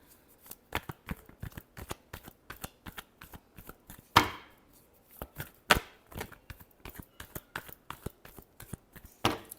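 Tarot cards are shuffled by hand in a steady series of crisp, close riffling slaps and taps, with a few louder snaps along the way and no talking.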